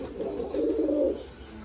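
Pigeons cooing up close, a single low, throaty, warbling coo that swells and lasts about a second, with no voices.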